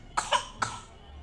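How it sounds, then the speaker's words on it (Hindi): A small child gives a quick burst of three coughs, close and moderately loud, the last one slightly separated from the first two, with no speech around them. "छोटा बच्चा खांस रहा है।"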